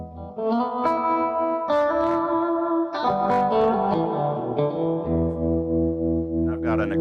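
Electric guitar played through Friedman and Fender Super Reverb amps in stereo with reverb and vibrato, sustained chords ringing and changing every second or so, loud and continuous with a shimmering wet tail.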